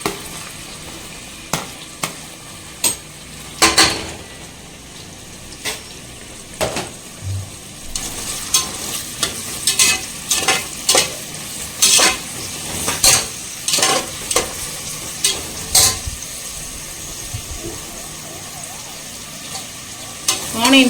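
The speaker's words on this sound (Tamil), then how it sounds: "ஸோ ஆனியன் வந்து சேர்த்துக்கிறேன்." Sliced onions tossed into hot oil for mutton biryani give a steady frying sizzle, broken by repeated clinks and scrapes of a stirring utensil against the pan, close and moderately loud.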